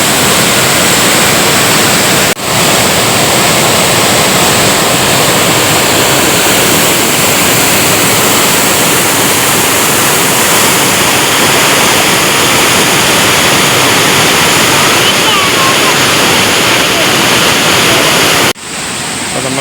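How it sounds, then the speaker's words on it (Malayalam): Meenmutty waterfall near Kallara, Kilimanoor roars continuously, loud and close, a steady broadband rush with no break. "നിങ്ങൾ ഈ കണ്ടുകൊണ്ടിരിക്കുന്നതാണ് മീൻമുട്ടി വെള്ളച്ചാട്ടം"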